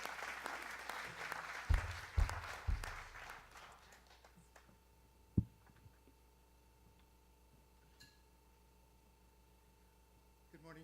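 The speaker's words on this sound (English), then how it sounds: "You can clap." Applause from a congregation at a Veterans Day church service fades out over a few seconds, with a few low thumps, then near silence broken by a single sharp knock and faint shuffling.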